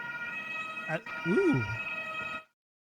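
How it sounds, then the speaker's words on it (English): German emergency vehicle siren heard outside, a steady tonal wail with strong harmonics sounding for over two seconds before cutting off abruptly, while a voice talks over it. "those German sirens, man"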